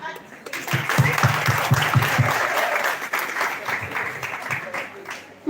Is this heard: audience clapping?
yes